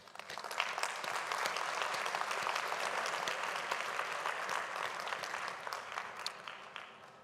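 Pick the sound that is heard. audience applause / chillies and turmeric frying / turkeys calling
audience applause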